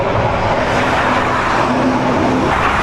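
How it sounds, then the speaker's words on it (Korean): Steady roar of heavy highway traffic on a busy Panamanian road, heard from a bicycle, with cars rushing past close by in a continuous loud wash and a faint engine tone running underneath. "차 소리가 뭔가 더 증폭돼 있는 느낌이야"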